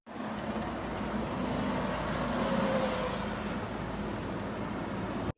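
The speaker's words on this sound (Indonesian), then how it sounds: "Oke, yang pertama ini bus." Bus in London street traffic, a steady loud rumble of engines and road noise that holds for several seconds with no voices.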